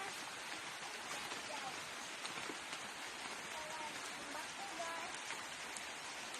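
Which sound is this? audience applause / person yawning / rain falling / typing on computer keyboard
rain falling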